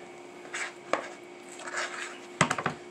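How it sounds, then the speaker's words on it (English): A spoon scrapes and taps in a bowl of Betty Crocker cookie brownie batter, a few soft strokes followed by a quick cluster of sharper knocks against the bowl, faint and close. "Why you still stirring?"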